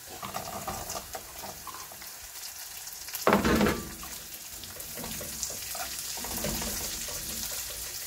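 Onion sizzles in hot oil with garlic in a pan for a chambu curry, a dense frying hiss with a louder splash-like burst partway through as ingredients go in, then a continued sizzle.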